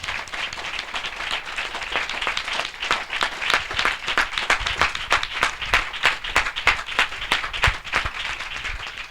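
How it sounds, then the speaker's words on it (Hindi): Enthusiastic applause from a church congregation at a Christian revival gathering, dense rhythmic clapping that swells and stays loud throughout, no voices over it. "हम जोरदार तालियों से उनका स्वागत करें।"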